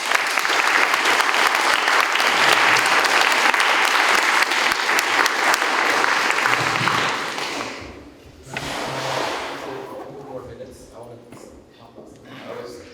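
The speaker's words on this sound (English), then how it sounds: "please join me in just giving everyone a round of applause" An audience at a constitution speech event breaks into loud sustained applause that fades after several seconds, with scattered voices and a few thumps as it dies down.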